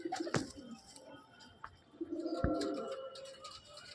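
Adult pigeons in a home loft coo softly, including a brooding hen with a closed tail set down to lay eggs. The low, rounded coos are faint, with brief chirps and a sharp tap over quiet background.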